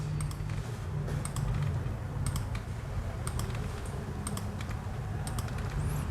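Clicking keystrokes on a computer keyboard as values are entered into clinic software, in quick irregular bursts over a steady background hum, close and fairly quiet, with no voices.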